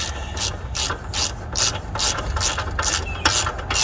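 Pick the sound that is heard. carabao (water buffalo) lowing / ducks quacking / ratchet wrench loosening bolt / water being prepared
ratchet wrench loosening bolt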